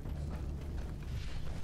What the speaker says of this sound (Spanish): Típica explosión nuclear.